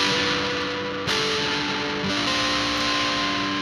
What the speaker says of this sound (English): So you're gonna hear reverb going into fuzz.